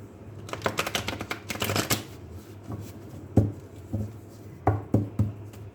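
A deck of tarot cards is shuffled by hand in quick riffling bursts, followed by a few separate soft taps and flicks, close and quiet.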